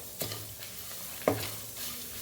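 Spices dry-roasted on leftover heat after the stove is switched off, for a sweet pumpkin kootu, are stirred in a pan: a faint soft hiss broken by two sharper scraping strokes of the spoon.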